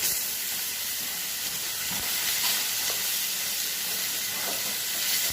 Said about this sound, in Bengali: আমার মাছটা ভালো মতো ভেজে নিচ্ছি